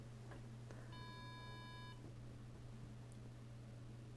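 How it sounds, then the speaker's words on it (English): Electronic alarm from a sensor-triggered relay circuit emits a single steady tonal beep lasting about a second, over a constant low electrical hum. "this is alarm is sounding because it is just crossing threshold"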